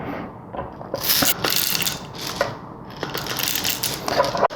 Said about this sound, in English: I'm brewing a shot of espresso today, so I'm using my favorite espresso bean and I'm grinding fine.